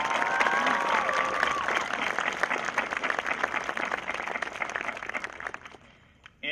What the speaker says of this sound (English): So let's give them a round of applause for this.